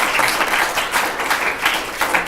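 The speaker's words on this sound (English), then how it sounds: "if we could have one final round of applause" A lecture audience gives a final round of applause at the close of an academic talk: dense, loud, continuous clapping for a couple of seconds.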